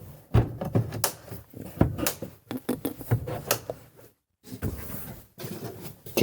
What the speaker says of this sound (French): Tiroir.